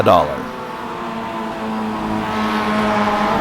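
Mazda race cars in the iRacing game pull out of the pits for a warm-up lap at Laguna Seca, engines droning and rising steadily under a commentator's voice.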